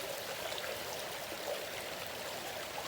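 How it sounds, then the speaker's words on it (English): Tryon Creek flows in a state park forest, a soft steady rush and babble of water heard at a moderate distance, continuous and even with no voices. "I just wanted to come down here and check out"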